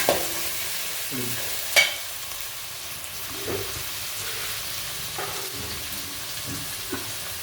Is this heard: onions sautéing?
yes